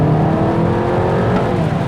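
The turbocharged engine of a 2016 Audi A3 sedan pulls hard under throttle, a loud, close, continuous engine roar with a rising whir as the turbo spools, and no talking.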